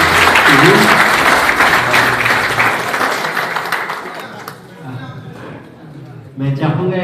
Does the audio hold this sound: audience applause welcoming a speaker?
yes